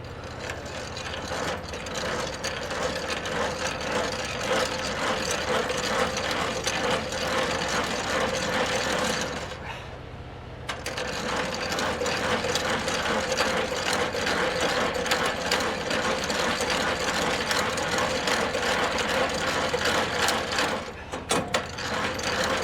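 A ratchet handle on a truck trailer is cranked steadily for about twenty seconds, a dense, continuous mechanical clatter up close with a brief pause around the middle.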